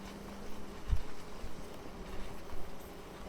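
A soft, continuous buzzing hum of many honeybees close by in an open hive, with a faint low thump partway through; no voices.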